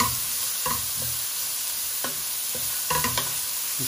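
Leeks cooking in a pan of olive oil and melted butter, a steady close sizzle broken by several stirring scrapes and taps, with no talking.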